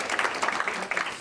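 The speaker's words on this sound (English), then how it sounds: "So let's give them a round of applause again." An audience applauds at a life sciences event, a brief, steady wash of clapping that fills the whole moment without a break.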